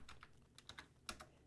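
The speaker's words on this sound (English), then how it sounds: "Typing." A computer keyboard is typed on in quick, soft clicks close by, a brief run of keystrokes with uneven spacing and no talking.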